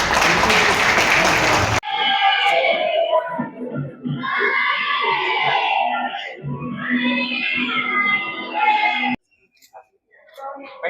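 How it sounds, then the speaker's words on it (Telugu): An audience breaks into clapping, loud and sustained over several seconds, with voices and shouts mixed into the applause before it cuts off abruptly. "సార్ క్లాప్స్ కొట్టండి సార్"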